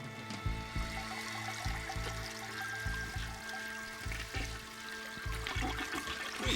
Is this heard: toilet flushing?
yes